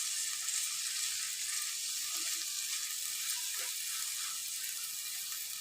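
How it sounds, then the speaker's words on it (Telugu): Ivy gourd frying in oil gives off a soft, continuous sizzle with a few light stirring touches, all of it fairly quiet and close, and nobody talks over it. "ఈ దొండకాయని మనం ఆయిల్లోనే ఇట్లా మంచిగా కలుపుతూ ఫ్రై అనేది చేసుకోవాలి"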